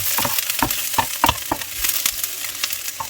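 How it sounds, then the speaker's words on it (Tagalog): Garlic and chili fry in a pan for pork curry, with a steady sizzle punctuated by several sharp taps and scrapes of a spatula stirring at a brisk, uneven rhythm. "just to fry our garlic"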